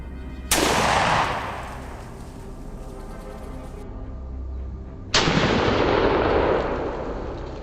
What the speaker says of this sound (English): Steady on the bead, I squeeze the trigger.